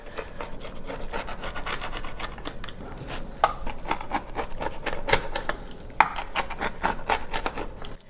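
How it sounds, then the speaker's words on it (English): A knife or cutter crunches through a crispy pepperoni, olive and bell pepper pizza crust, making close, dense rasping crackles with sharp snaps, steady throughout with no talking. "now we're gonna cut it, and I want you to listen to the crispness of the crust"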